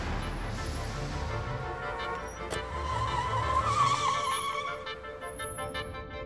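A car travels along a road at about 20 miles per hour, giving a steady engine and road rumble with a brief tire squeal midway. No one speaks.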